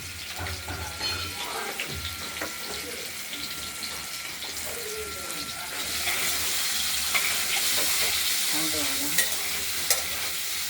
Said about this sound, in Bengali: আলুগুলোকে আমরা ভাজা ভাজা করে নিচ্ছি একটু